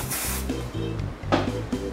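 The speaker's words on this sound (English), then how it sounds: "Put some hairspray." Hairspray misted onto a finished reverse fishtail braid, several short aerosol hiss bursts close up, soft and quick in succession with no talking.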